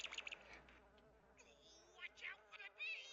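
Bees buzzing in a video game, a high, wavering insect drone that swells and fades in short bursts over a steady low background, with no talking.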